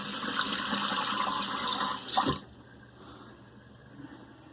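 Water splashing from a running tap as a face is re-wet during a shave, a steady close wash of water for about two seconds that cuts off, leaving quiet room tone.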